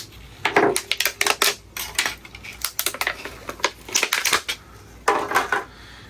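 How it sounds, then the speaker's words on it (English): An X-Acto knife cutting open a wooden fishing lure prototype, giving loud, close crunching and cracking bursts in uneven clusters, with short pauses between the strokes. "I got an X-Acto knife here. Let's cut this thing open."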